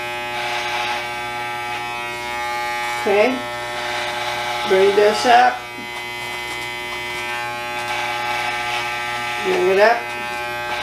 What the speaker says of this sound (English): My clipper is still going straight up, as you can see.